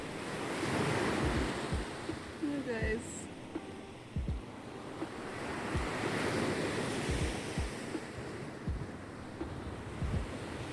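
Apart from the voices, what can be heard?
ocean waves on the beach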